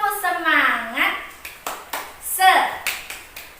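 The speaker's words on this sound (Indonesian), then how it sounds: "mari kita tepuk semangat dahulu. Tepuk semangat." Children in a fifth-grade classroom perform a rhythmic spirit clap, sharp hand claps falling in a patterned beat between their shouted chanting voices, close and lively.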